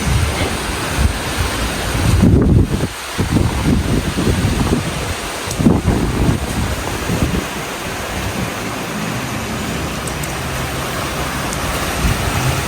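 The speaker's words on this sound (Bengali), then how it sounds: "তুফান বাতাস, এই যে গাছপালা নড়তেছে পুরা।" Strong stormy wind sweeping through and shaking trees, a loud, continuous roaring rush with gusting surges and buffeting against the microphone, no voices heard.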